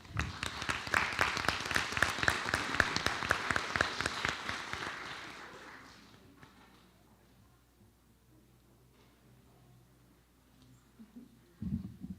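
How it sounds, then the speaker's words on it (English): Applause at a school board of education meeting, a room clapping loudly for around six seconds before fading out into near quiet, then a brief low rumble at the end. "Give Caroline a round of applause"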